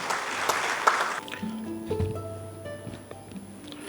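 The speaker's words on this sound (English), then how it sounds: "please give a big round of applause as we welcome Mr. Nishan Hewagamage to the podium" Audience applause at a certificate awards ceremony greets a speaker coming to the podium: a burst of clapping that fades within about a second, followed by quieter sustained tones.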